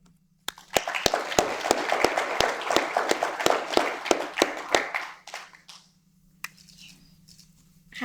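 An audience applauds to welcome a speaker at a public announcement of a new IRS call center in Clarksdale. A few sharp claps start it, then a burst of steady clapping runs for about four seconds before it thins to scattered final claps over a low hum.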